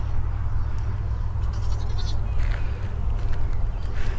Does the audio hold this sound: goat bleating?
yes